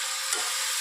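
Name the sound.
peanuts sizzling in hot tempering oil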